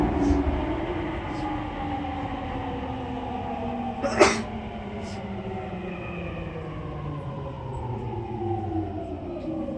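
A JR East E231 series commuter train rolls into Kagurazaka station on the Tokyo Metro Tozai Line, a steady loud rumble of wheels and motors with one short sharp clank partway through.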